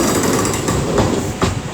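Class 390 electric train 390-112 departs Wolverhampton on the West Coast Main Line, a loud, close rumble with rhythmic clattering of wheels over rail joints.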